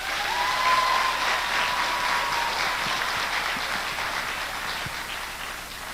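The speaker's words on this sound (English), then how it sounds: "Please give them all a round of applause." Sustained audience applause at a winter carnival pageant, a dense steady wash of clapping that holds loud throughout, easing only slightly toward the end, with no talk over it.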